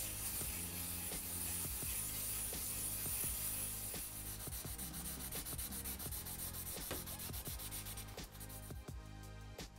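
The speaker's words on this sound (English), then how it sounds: "It's important to do a wet sanding with carbon so you don't get the dust everywhere" Wet sanding the edges of a carbon fibre tube for hardline water-cooling tubing, a steady rhythmic rubbing and scraping with repeated strokes, close and continuous throughout, no talking.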